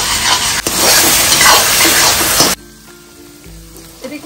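Onions frying in a pan until golden brown, a loud dense sizzle for a few seconds that cuts off abruptly, leaving quieter scraping and light clatter.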